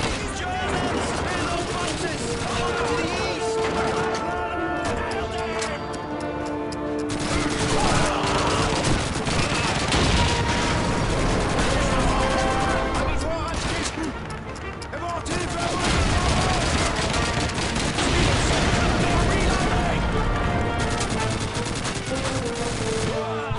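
Dense, continuous gunfire and explosions from the World War II shooter Call of Duty 2, with machine-gun bursts and volleys running loud and steady throughout, under occasional voices.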